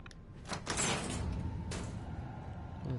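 A magnetic door sliding open in the video game Fallout 4, a broad mechanical whoosh with a couple of heavy surges, fairly close and steady, with no talk over it.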